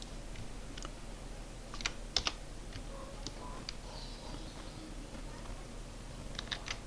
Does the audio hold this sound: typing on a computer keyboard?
yes